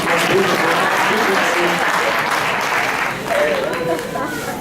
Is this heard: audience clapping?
yes